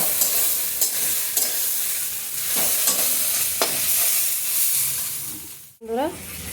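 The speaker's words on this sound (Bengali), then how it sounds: "বন্ধুরা কচুটা আমি একদম লাল করে ভেজে নিলাম।" Taro pieces frying and stirred in hot oil, a steady bright sizzle with scraping stirs at intervals, then a brief dip and a fresh burst of hissing near the end; no voices.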